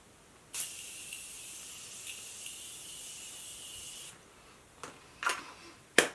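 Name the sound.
setting spray mist being sprayed on face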